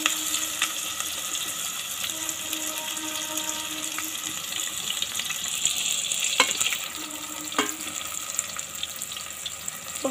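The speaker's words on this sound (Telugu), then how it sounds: "ఇప్పుడు ఆయిల్ వేడైన తర్వాత ఇక్కడ నేను కట్ చేసిన ఒక ఆనియన్ని," Chopped onion and green chillies fry in hot oil with a steady, close sizzle throughout, broken by occasional stirring clinks.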